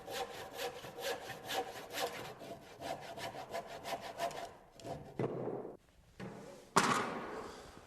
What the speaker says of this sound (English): When I'm making my cuts with a handsaw, I want to be sure not to go any further than the imaginary lines.